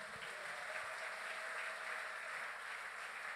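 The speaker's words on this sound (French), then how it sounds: "Put your hands together." Church congregation at a thanksgiving service applauding, a soft steady patter of many hands clapping, distant and continuous throughout.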